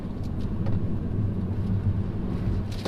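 A Mini Cooper Electric car on the move, its cabin filled with a steady low road rumble and tire noise that holds even throughout, with no engine note and no voices.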